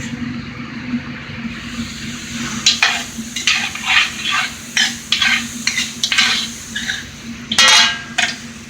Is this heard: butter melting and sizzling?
yes